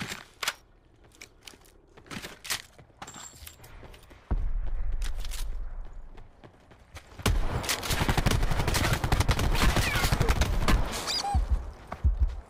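Gunfire in the battle royale game Call of Duty Blackout: scattered sharp shots early on, then a dense, loud stretch of rapid fire and explosions with heavy low rumble in the second half.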